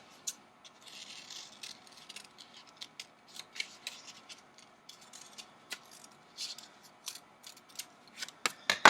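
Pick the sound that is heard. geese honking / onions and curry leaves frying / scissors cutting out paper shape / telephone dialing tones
scissors cutting out paper shape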